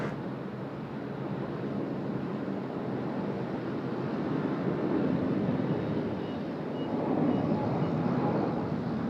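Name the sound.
Cebu Pacific Airbus A330 departing Sydney Airport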